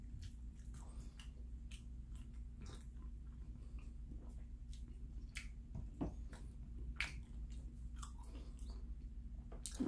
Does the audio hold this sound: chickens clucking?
no